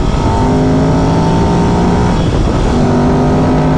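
A 2001 Ducati Supersport motorcycle accelerating on a road, its engine note loud and steady throughout with a sustained droning roar and rising harmonic tones.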